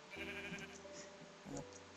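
Sheep bleating in the video game Minecraft, a couple of wavering bleats from farm animals at moderate volume, with the second call rising briefly louder over a steady low background hum.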